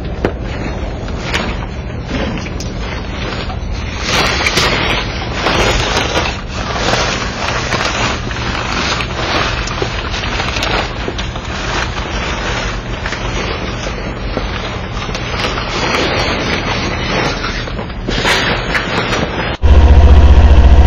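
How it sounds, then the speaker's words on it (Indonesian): A motorcycle engine warming up in snowy winter cold idles steadily with a rough, buzzing two-stroke-like rattle, running continuously at close range in a factory parking lot before a louder burst near the end. "Kalau dipanasin itu kayak ini, kayak mesin dua tak."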